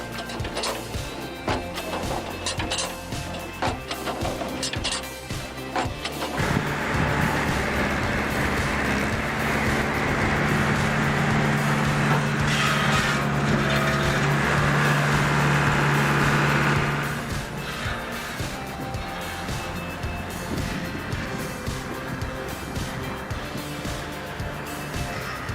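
A homemade firewood processing machine runs with a loud, steady mechanical drone and a rough clatter. The noise swells into a heavier, tonal roar from about 6 to 17 seconds, then settles back to a lower steady rumble.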